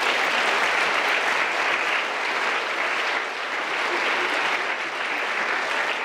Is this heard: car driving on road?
no